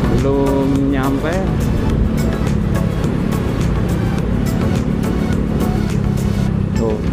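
Busy road traffic heard from a moving motorcycle on a holiday homecoming route between Karawang and Cikampek, constant engine roar and passing vehicles with a voice talking over it.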